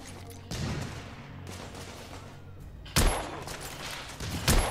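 Rapid bursts of gunfire from the video game The Order: 1886, loud volleys of shots in two main clusters with brief quieter gaps between.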